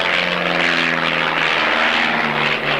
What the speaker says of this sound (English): Then pulling back over the top, the formation will fly away from us to rejoin in formation.